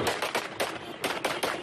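Masked gunmen fire shots into the air beside a parked car in the south, a fast series of loud, sharp bursts in irregular clusters, heard alone.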